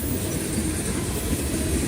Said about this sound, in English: the train is still coming.